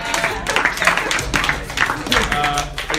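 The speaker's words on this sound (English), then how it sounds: "Let's give a round of applause." Small group clapping and cheering to open a Survivor-style food challenge, close and lively with uneven bursts of claps and voices mixed in.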